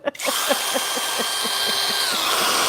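A worn-out power drill whirs close and loud, its motor whine steady and broken by rapid rhythmic pulses, with no talking.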